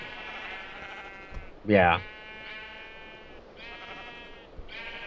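Sheep bleat in a modded Minecraft game, one loud nearby bleat followed by a few fainter, buzzy bleats spread through the clip, with a person speaking briefly over them.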